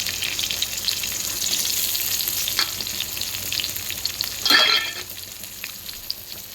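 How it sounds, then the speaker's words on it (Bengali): Chopped onion drops into a pan of frying potatoes, bursting into a louder sizzle over a steady background crackle, with a brief stirring scrape; no voices. "আলুগুলো ভেজে নিলাম, এবার কেটে রাখা পেঁয়াজটা দিয়ে দিচ্ছি।"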